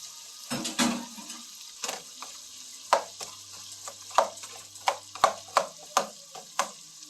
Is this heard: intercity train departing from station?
no